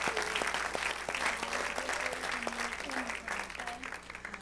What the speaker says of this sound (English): Can you give her a hand clap?